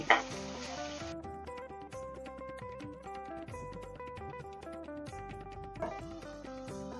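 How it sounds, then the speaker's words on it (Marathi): Tomatoes sautéing in a pan for matki pulao, stirred with a spoon that scrapes and clinks against the metal, with a low sizzle mostly masked by steady background music. "टोमॅटो पण मस्त परतवून घ्यायचा"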